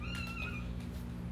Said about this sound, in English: Sorry about the meowing voices.